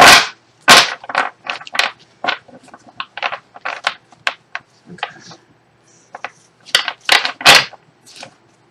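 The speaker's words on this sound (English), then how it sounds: "So let me just do the shuffle of the cards, because I got the cards here." A deck of tarot cards being shuffled by hand, a rapid run of crisp riffling and slapping bursts, close and fairly loud, repeating irregularly throughout with no talk over it.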